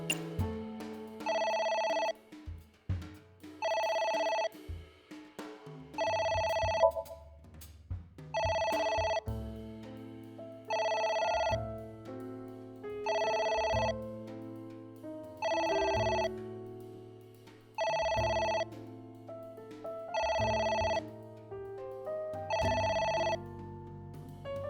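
A video game phone in AI: The Somnium Files rings in repeated electronic bursts with short gaps between them, steady and clear, playing alone over a soft background melody.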